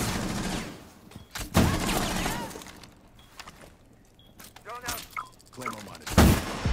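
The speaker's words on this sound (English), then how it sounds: "Oh, you guys are shooting right at me." Gunfire in the Rainbow Six Siege video game, scattered bursts and sharp cracks with a loud hit near the end, mixed in with someone talking.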